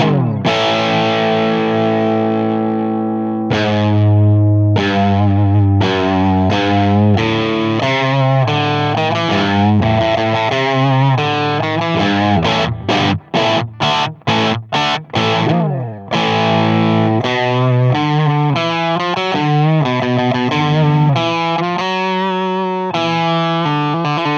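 A distorted Fender Ultra II Stratocaster on the bridge pickup with a bright, biting tone plays chords and rapid muted stabs, loud and continuous, with no voices.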